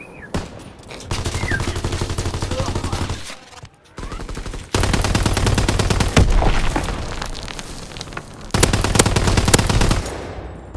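Sustained automatic gunfire in the WWII shooter Call of Duty: WWII, with long, loud rattling bursts separated by short pauses, repeating close up and alone.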